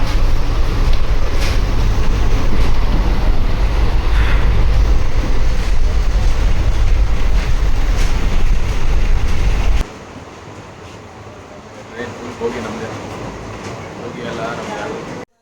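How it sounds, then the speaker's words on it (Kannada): Steady broadband rumble and rattle from inside a moving passenger train, loud and continuous for most of the stretch, then dropping to a quieter hum with faint background chatter toward the end. "ನಾನು ಮತ್ತು ನಮ್ಮ ಬ್ರದರು ಕೂತಿದ್ದೀವಿ ನೋಡಿ ಟ್ರೈನ್ ಒಳಗೆ"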